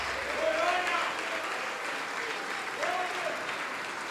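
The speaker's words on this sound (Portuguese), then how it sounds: "Vamos aplaudir mais, vamos aplaudir mais" A church congregation claps during a sermon, sustained, fairly loud applause that fills the space while a voice rises briefly over it twice.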